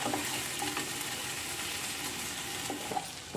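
Raw banana pieces frying in a pan with turmeric give a continuous close sizzle broken by scattered scraping stirs, fairly quiet, with no voices.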